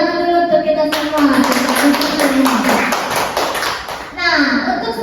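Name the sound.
class applause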